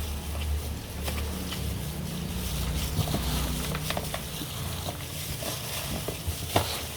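Pork barbecue marinade being stirred and mixed by hand in a bowl, a steady wet squelching and sloshing with scattered small clinks, close and continuous with no talking.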